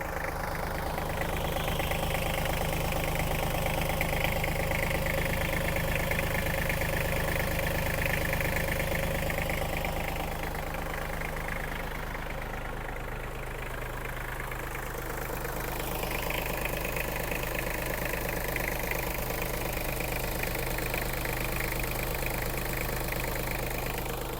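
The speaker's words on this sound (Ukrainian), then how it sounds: "Подивимося, як працює у нас двигун." An Iseki TG-273 Japanese mini tractor's small diesel engine idles steadily for a long stretch, a continuous low chugging hum with no talking over it.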